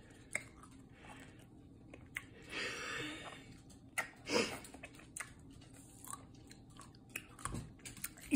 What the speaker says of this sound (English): Are you gonna bite it so they can hear the crunch?